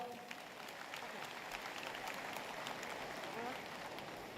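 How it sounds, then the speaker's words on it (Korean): An audience applauds at the opening ceremony of a county citizens' day event, a steady, faint, somewhat distant wash of many hands clapping that lasts the whole stretch, with a murmur of voices mixed in. "이분들에서 박수 한번 부탁드립니다"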